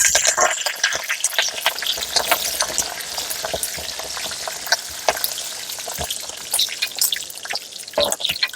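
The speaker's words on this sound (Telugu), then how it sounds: "తాలింపు వేసుకుందాం అండి" Garlic and whole spices fry in oil for a tempering, a continuous crackling sizzle with sharp pops and spatters throughout and occasional stirring, fairly close and loud, with no talking.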